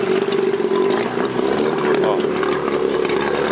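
Outboard motor running on a 5-metre boat with a medium-height side, a steady droning hum under someone talking close by.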